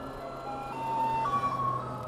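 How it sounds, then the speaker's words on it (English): An ice cream truck's jingle plays a faint, thin tune of a few sustained melodic notes over steady traffic and road noise, heard from a ride along a town street. "I didn't know we had an ice cream truck"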